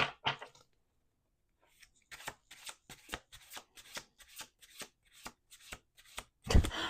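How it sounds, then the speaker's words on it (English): A deck of tarot cards being shuffled, a quick riffle burst followed by a steady run of crisp, rhythmic slaps and flicks, close and clear. "Last shuffle."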